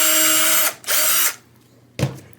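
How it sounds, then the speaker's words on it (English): A power drill starts screw holes for a Stratocaster-style guitar neck: two loud whining bursts of the motor spinning, then a brief thud and clunk at the end. "Now I can drill my holes for my neck and put the neck in."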